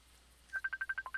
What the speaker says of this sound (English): A phone call coming in, incoming.